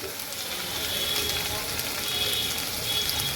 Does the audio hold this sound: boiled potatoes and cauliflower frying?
yes